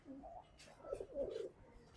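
Pigeons in a collection of gorola pigeons coo softly nearby, a few low throaty murmuring coos in quick succession under faint background noise.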